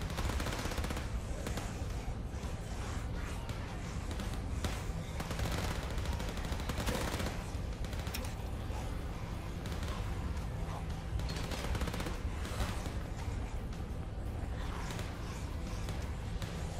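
Rapid, continuous gunfire in Overkill's The Walking Dead, overlapping shots and automatic bursts crackling close and loud across the whole stretch, with a voice talking faintly beneath.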